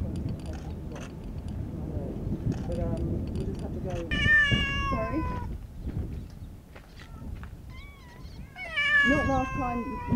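Stray cats in an island colony in Abu Dhabi meow repeatedly, with several clear, close calls rising over a steady bed of background chatter and outdoor noise.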